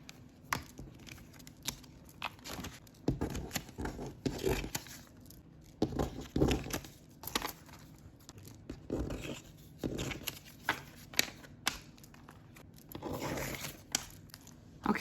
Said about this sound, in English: So I'm going to take that and stuff it into my envelopes.